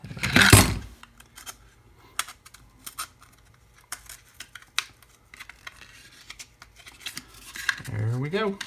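Scissors snip and trim a terrain piece in a series of short, sharp, irregular cuts, close and fairly quiet.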